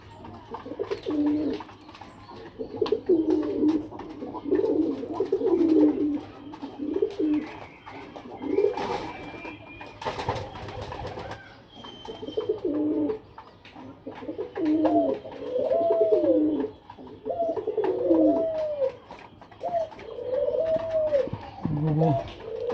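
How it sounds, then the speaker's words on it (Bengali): Spotted dove cooing repeatedly from a rooftop setting, a steady series of soft, rhythmic hooting phrases close by, continuing across the whole stretch with brief pauses and light background noise. "গুগু গুগু ডাকতেছে"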